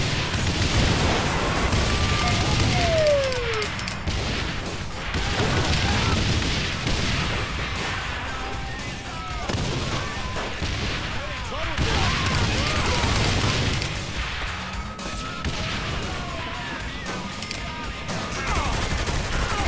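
Dual pistols firing in the action game Saints Row The Third, dense rapid shots and booms forming a steady fusillade over game noise, with someone talking over the shooting.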